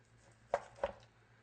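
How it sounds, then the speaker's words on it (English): A sharp knife cuts a boneless ribeye roast in half on a board, making two quick, crisp chopping thuds about a third of a second apart, faint and close, with quiet room hum between. "Cut it in half so you have a flat surface area to work with."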